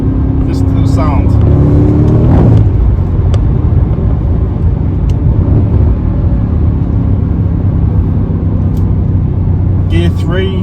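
A Mercedes C63 AMG engine at full throttle on a country lane, a loud continuous low roar and rumble filling the whole stretch, heard from inside the car with brief higher whines.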